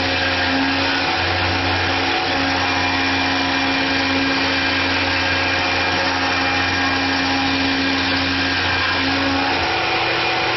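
A Tormach PCNC 1100 CNC mill cuts 3/8 material, giving off a loud, steady mechanical whine and roar with a constant tone that holds unchanged throughout, and nobody speaks.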